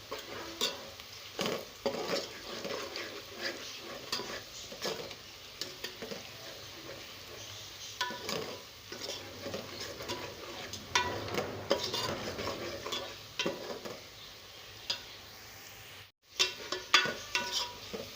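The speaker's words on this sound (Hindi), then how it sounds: "ये देखिए यहाँ पे हमारी प्याज गोल्डन होना स्टार्ट हो गई है। अभी इसको मज़ीद हम गोल्डन करेंगे।" Onions frying toward golden brown for aloo gosht, a soft continuous sizzle broken by frequent stirring scrapes and light clinks of a pan, fairly quiet and close, with no talking.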